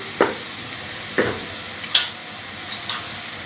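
Chopped tomato stirred with turmeric and red chili powder in a pan, a soft steady sizzle broken by a few sharp scrapes of a spoon against the metal, close and spaced about a second apart.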